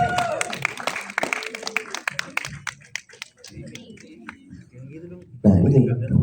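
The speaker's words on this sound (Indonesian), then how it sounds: "Selanjutnya beri tepuk tangan yang meriah untuk Nabil Lunggana sebagai Dedi." Scattered clapping from an audience at a film press conference and screening for The Bell: Panggilan untuk Mati, a string of sharp claps that thins out before a louder burst of crowd noise near the end.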